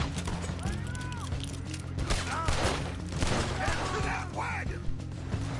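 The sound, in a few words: gunfight gunfire in Red Dead Redemption 2 video game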